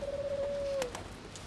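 A pigeon coos inside a bus depot, one drawn-out call holding a steady pitch for under a second before fading, fairly close and clear over a quiet background.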